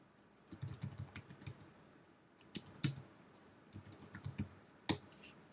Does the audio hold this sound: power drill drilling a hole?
no